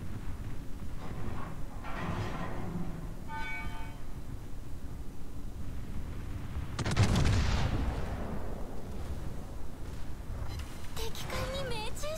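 Secondary battery guns of the battleship Prinz Heinrich firing in a naval combat video game, bursts of distant booming shots with a heavier blast near the middle, over a constant engine and water rumble.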